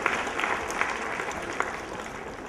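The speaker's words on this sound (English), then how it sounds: "I guess parents, that deserves a huge round of applause." Parents at a playschool celebration break into applause, with dense, continuous clapping heard from a moderate distance and a few louder claps standing out.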